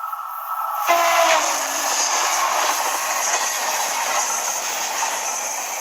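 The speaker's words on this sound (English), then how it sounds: "Peep, peep, whistled Edward." A steam engine whistle from a Thomas the Tank Engine episode, blown by Edward: a sudden loud whistle blast that gives way to continuous close train rumble and hiss.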